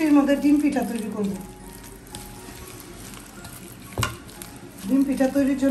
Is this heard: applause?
no